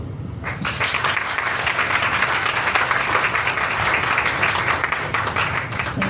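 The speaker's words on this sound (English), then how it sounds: "I would like to ask the floor to give them a round of applause" An audience at a regional pharmacy students' assembly session gives a sustained round of applause, dense and steady clapping from many hands that starts abruptly and carries on for several seconds without letting up.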